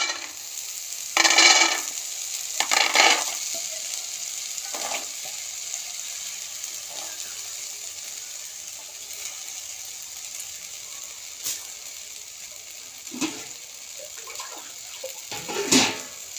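Chickpeas stirred in a hot kadai on a gas stove, with faint sizzling under several short, scraping bursts of the spoon against the pan, spaced irregularly and fairly quiet.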